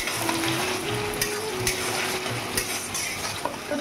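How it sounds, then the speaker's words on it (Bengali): Raw onion and garlic fry in hot ghee, a continuous bright sizzle with scattered clinks of a utensil against the pot and a faint tonal hum underneath, no one talking. "এখানে কাঁচা পেঁয়াজ আর কাঁচা রসুন একসাথে করে নিলাম"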